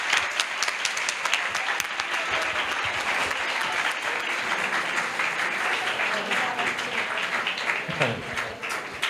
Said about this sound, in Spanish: os pido un aplauso para don Emilio